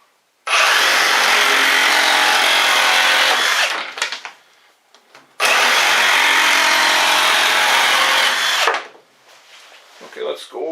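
Two long bursts from a cordless Milwaukee M18 Fuel Sawzall reciprocating saw cutting through wood, loud, harsh and close, each running several seconds before winding down, with a short quiet gap between cuts.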